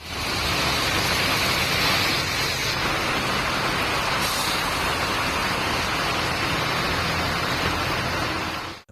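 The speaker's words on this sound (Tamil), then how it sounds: "கோடை மழை வெளுத்து வாங்கியது" Heavy summer rain pours down in a broad, steady roar that stays loud and even for the whole stretch, with no distinct thunderclap standing out.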